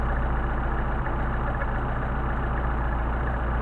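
Solex-carbureted engine idling steadily while its carburetor is tuned, a loud, even, continuous rumble with no pauses.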